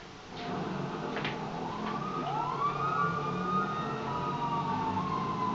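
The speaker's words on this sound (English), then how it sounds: "So, you like that siren?" A police siren in Grand Theft Auto V wails in a steady rising and falling sweep over a constant rumble of game noise, close and loud, with no voices.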